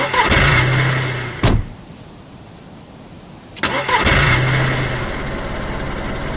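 Car engine starting in the video game DayZ, two loud cranks each catching into a steady running roar, separated by a quieter gap of low rumble.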